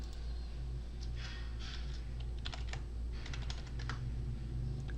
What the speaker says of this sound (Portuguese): só vou digitar aqui a minha senha do usuário root